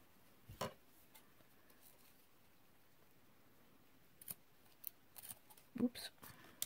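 Scissors snip a paper tag during crafting, a few sharp close cuts, one early and a quick cluster later, set against near silence.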